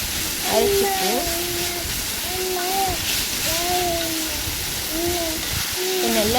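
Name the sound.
sautéing ingredients for vendakkai puli kulambu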